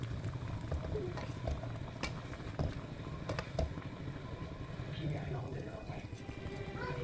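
Wax gourd pieces simmer in sugar syrup in a pan over medium heat, a steady low bubbling and soft crackle with occasional clinks and taps, continuous and fairly quiet.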